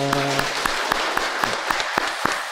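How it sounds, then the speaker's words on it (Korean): A church congregation claps at a Sunday service, a run of sharp, fairly regular claps at moderate loudness, with a held organ or ensemble chord fading out at the start. "박수로 격려하겠습니다."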